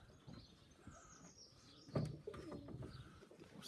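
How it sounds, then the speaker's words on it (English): Pigeons coo softly in their loft, a few low murmuring calls with one louder coo in the middle, heard fairly faint and close with light rustling around them. "there's the birds"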